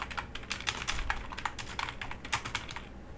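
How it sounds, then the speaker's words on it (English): Quick, uneven keystrokes on a computer keyboard rattle along for about three seconds, close up and fairly quiet, with no voice over them. "Now you can just type in your text here."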